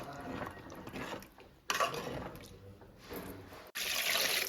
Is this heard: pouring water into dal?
yes